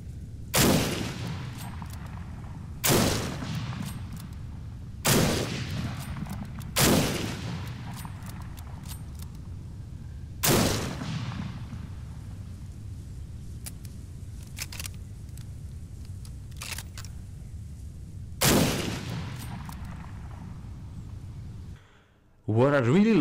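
Winchester 1886 lever-action rifle chambered in .45-70 firing in the game Breaking Point against zombies: six loud, sharp single shots spaced a few seconds apart, each ringing out over a steady low in-game background.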